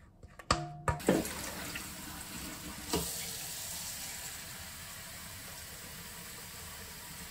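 Water is poured into a pan to make a water bath for a raspberry cheesecake, a few clattering knocks at the start followed by a steady soft splashing rush that continues to the end, fairly faint.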